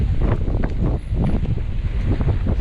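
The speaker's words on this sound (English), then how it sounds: "It's quite windy today" Wind gusts across a microphone at a cable wakeboard park, a loud continuous buffeting rumble with no talk.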